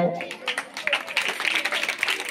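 Audience clapping at a school essay competition prize-giving, brief scattered applause rising under a voice speaking over it.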